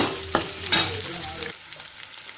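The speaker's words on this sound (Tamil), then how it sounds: "வெங்காயமும் கருவேப்பிலையும் சேர்த்துருக்கேன் இதை நல்லா வணக்கி விடுங்க" Onions and curry leaves sautéing in a pan for brinjal thokku, with a steady sizzle, a couple of sharp spoon strikes against the pan, and then the sizzle fading to a quiet hiss in the final second.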